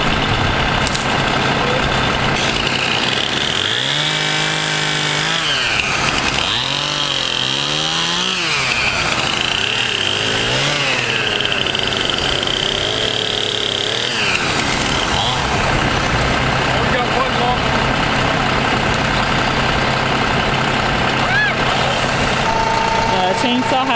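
A tractor engine runs steadily during tree cleanup and removal on a ranch, loud and continuous with revving swells, a chainsaw whining alongside, and people talking at times over the machinery.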